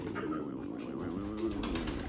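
Low, soft cooing from female pigeons of an Indian breed kept in a coop, a murmur of coos layered under faint rustling, with a few brief sharper sounds near the end.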